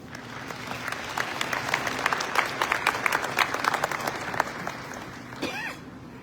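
Audience applause fills Bender Arena at American University as President John Alger is welcomed at a Walk for Pace event, sustained dense clapping at steady loudness for several seconds, then tapering off with a brief voice near the end.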